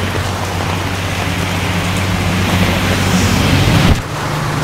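Steady rain heard from indoors makes a dense, continuous hiss that stays loud and even throughout, with a low hum underneath and no talking.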